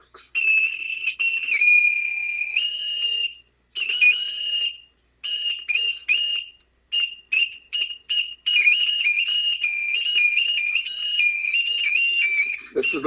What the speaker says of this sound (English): playing me a little 20, 30-second song on your weenie whistle